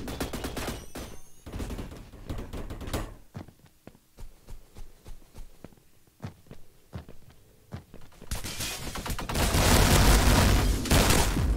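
Shotgun blasts from a SAIGA in the video game Energy Assault crack out in rapid, sharp bursts, with a dense volley at the start, scattered single shots in the middle and a loud, sustained roar of gunfire near the end.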